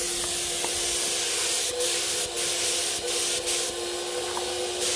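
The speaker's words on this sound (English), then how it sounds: "This cup that he's spraying with holds about 8 ounces of paint." A paint sprayer fitted with an 8-ounce cup puts metallic paint on furniture outdoors. It gives a loud, continuous broadband hiss with brief dips where the trigger releases, and no other sounds break through.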